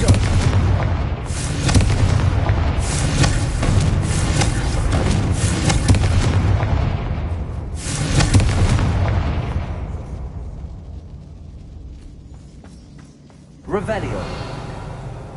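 Spell blasts boom and rumble in a Hogwarts Legacy fight, with several loud explosive bursts in the first half that fade into a quieter stretch before one more hit lands near the end, while a voice casts spells over them.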